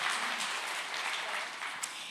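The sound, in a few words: church congregation applauding the new team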